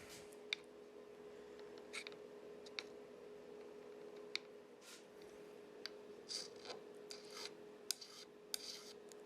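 A file spot-leveling the frets on a guitar neck, faint short rasping strokes and scattered small ticks and clicks over a steady low hum, with no speech.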